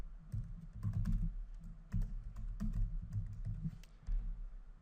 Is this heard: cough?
no